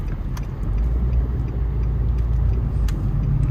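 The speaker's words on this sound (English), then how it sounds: "start giving it gas and go make a left that way." A car interior rumbles steadily with road and engine noise as the car speeds up and turns left during a driving lesson, loud and continuous with no speech.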